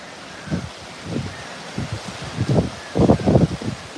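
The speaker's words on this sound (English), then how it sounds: "Oh yeah, there's tons of wind. Tons of wind over here." Strong gusts of wind ahead of Hurricane Milton in Central Florida buffet the microphone, with several rumbling bursts that build toward the end, heard alone without speech.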